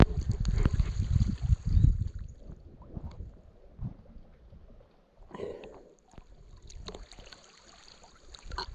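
Water splashing during a Monday morning swim at Ilha Grande, Brazil: close, irregular sloshes and strokes, loudest at the start, then quieter ripples and a few fresh splashes, with no voices.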